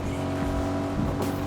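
A car in Fortnite Chapter 5 driving off, a steady close engine drone with a brief tire-squeal-like rise near the end.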